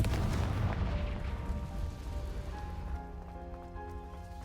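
A Confringo fire spell explodes in Hogwarts Legacy with a dense, loud rumbling blast that trails into a crackling decay, while sustained musical tones rise beneath it.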